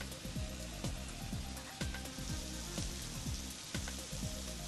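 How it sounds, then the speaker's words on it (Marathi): Heavy rain falls over flooded Mumbai, a continuous wash of water behind repeated low, swooping electronic tones that rise and fall at an uneven pace, with no voices. "मोठ्या प्रमाणात पाऊस सुरू आहे"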